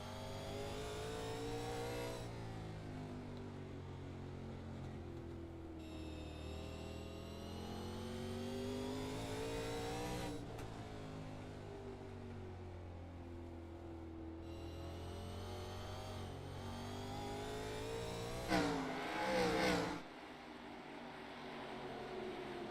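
Race cars lapping the short oval at Hickory Motor Speedway, several engines droning and revving together in a steady pack, with pitch shifts as cars pass and a louder surge near the end, no talk.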